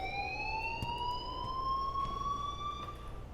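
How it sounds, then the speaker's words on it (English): A school fire alarm from the video game Life is Strange wails with a steady electronic tone that slowly rises in pitch and fills the space, with faint clicks underneath and nobody talking. "please turn off that alarm since that's your job"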